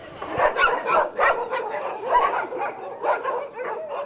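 Several dogs at an animal shelter bark and yip repeatedly in quick bursts, fairly close, with some whimpering between barks and no talking.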